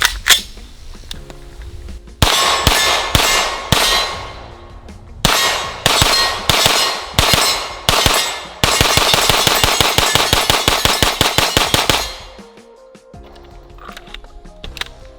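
A CMMG Mark IV AR-9 9mm carbine fired at a shooting range: loud, sharp, ringing shots, first in spaced pairs and singles, then a fast string of about fifteen rounds, with no talking.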